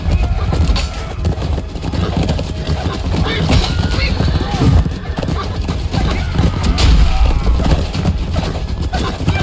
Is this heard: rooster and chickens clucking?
no